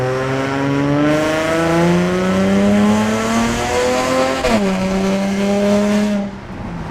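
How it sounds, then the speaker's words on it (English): Nissan 350Z fitted with headers, test pipe, Y pipe and a Tomei exhaust, revving loud and close with rising and falling engine pitch, a sharp shift-like dip midway, then easing off at the end. "Now the headers, the test pipe and the Y pipe are really what are helping the Tomei actually scream because it's letting out all the air."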